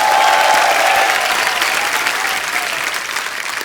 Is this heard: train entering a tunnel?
no